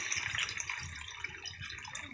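Water is poured into a cooking pot of crab and potato curry, a steady splashing pour running continuously and fairly softly throughout.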